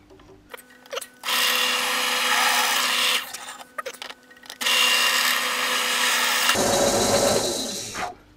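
A drill with a 5 mm bit bores into a rear oil-pressure shock absorber. Two sustained, loud whining runs of about two seconds each are separated by short pauses, and the pitch drops near the end.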